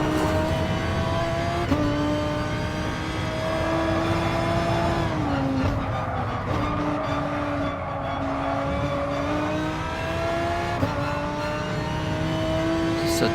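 Audi R8 Gr3 race car in GT Sport on the Lago Maggiore circuit, engine held at full throttle with a loud sustained howl, pitch climbing through gears with brief dips at upshifts.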